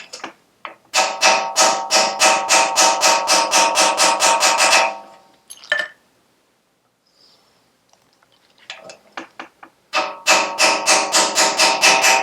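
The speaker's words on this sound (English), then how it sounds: "I'll just get a slightly bigger hammer to seat it properly." Fast runs of sharp metallic hammer taps seating a Firebird part into place, close by, in two bursts with a quiet gap and a few scattered knocks between them.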